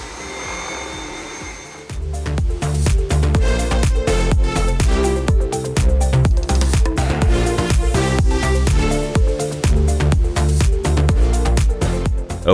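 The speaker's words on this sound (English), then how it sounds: "see what the Dyson can do on very low pile carpeted vehicle floor mats that have been somewhat neglected over the last couple months" A Dyson V7 Motorhead cordless stick vacuum runs loud and steady over neglected low-pile carpeted car floor mats, its motor whine broken by rapid rhythmic brushroll strokes and debris rattle throughout.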